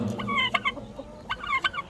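Rhode Island Red layer hens on a poultry farm cluck in short, scattered bursts, fairly faint and close, with a few sharper calls among quieter murmuring.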